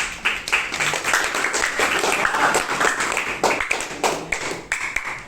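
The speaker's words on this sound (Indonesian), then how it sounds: "Oke, berikan tepuk tangan." A group of participants in a classroom training session applauds, with individual claps distinct in an uneven, lively patter that continues steadily throughout.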